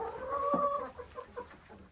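Chickens clucking nearby, one louder drawn-out call up front followed by scattered, softer clucks.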